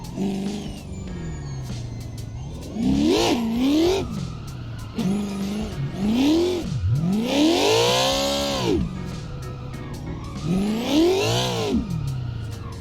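Car drifting in Assetto Corsa, with engine revs climbing and dropping in repeated sweeping surges and tires squealing through each slide, loud and close, without talk.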